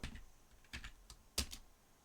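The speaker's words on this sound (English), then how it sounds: "let's see if we can manually type a value" Several quick, soft keystrokes on a computer keyboard as a value is entered, spaced irregularly in a quiet room with one sharper tap near the end.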